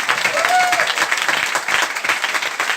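Audience applause, loud and steady, with dense clapping from a crowd filling the whole stretch and a few faint voices mixed in.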